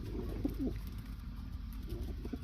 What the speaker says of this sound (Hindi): थर्ड वाला कबूतर आपको मैं दिखाता हूँ पकड़ के